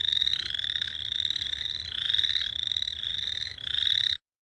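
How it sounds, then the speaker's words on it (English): A boreal chorus frog calls alone in a steady series of rising, rasping trills, like a finger running down a comb, repeated back to back for about four seconds, clear and fairly close. "That is the boreal chorus frog."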